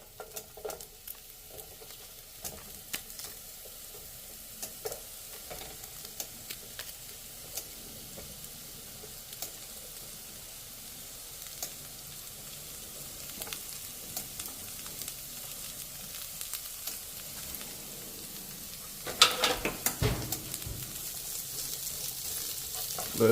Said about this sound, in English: saute some onions